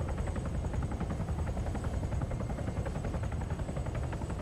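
In the video game Arma 3, a steady helicopter rotor drone with rapid chopping pulses, continuous and fairly close, with no talk over it.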